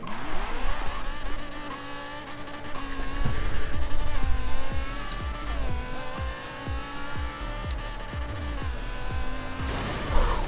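An 1100 hp twin-turbo Dodge Viper ACR drag build launches with launch control in Forza Motorsport 7: a loud engine revs and climbs through several gear shifts with tire squeal, held close and without talk.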